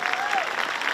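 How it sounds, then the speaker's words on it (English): Crowd applause at a high school graduation ceremony, a dense, steady wash of many hands clapping, loud and continuous, with a whistle-like tone sliding briefly over it. "Let's give them a round of applause."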